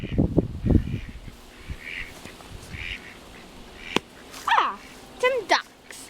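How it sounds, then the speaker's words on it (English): Ducks quack in a few short bursts beside murky water near leafy, spiky undergrowth, moderately close, mixed with other bird calls, while a person talks over the start. "Some ducks."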